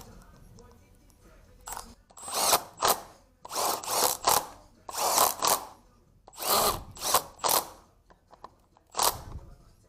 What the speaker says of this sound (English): Don't worry, I'm torquing these.